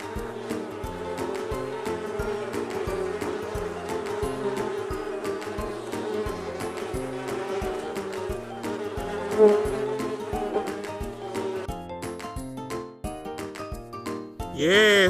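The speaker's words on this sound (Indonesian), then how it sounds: "Lebah bahasa Inggrisnya bee." Steady bee buzzing, continuous and fairly loud, heard under a bouncy children's music backing track for the whole stretch.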